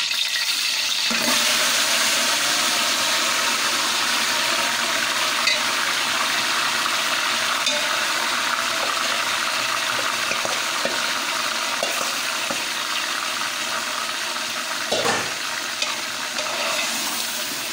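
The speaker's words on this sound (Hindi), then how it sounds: "अब मैं इसमें गोश्त जो मैरिनेट करके रखा है वो सारा इसके अंदर ऐड कर दूँगी" Marinated meat for degi korma hits a hot pot and fries with a loud, steady, dense sizzle that runs throughout, with occasional stirring scrapes and no talk.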